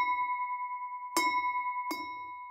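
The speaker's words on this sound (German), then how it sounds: "So klingt das Glas ohne Wasser." An empty glass is struck three times, each strike ringing out with a clear, sustained tone that lingers between hits.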